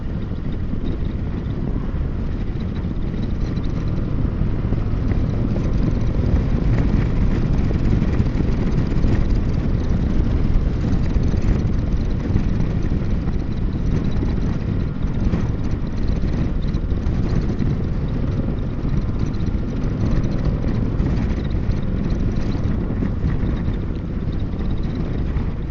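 Constant heavy wind roar buffeting the microphone while riding a Harley CVO Street Glide motorcycle, a loud, unbroken rush that masks everything else.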